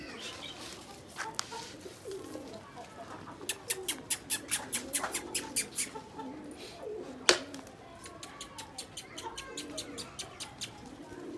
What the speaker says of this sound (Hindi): ये देखें कबूतर कैसे फड़क रहे हैं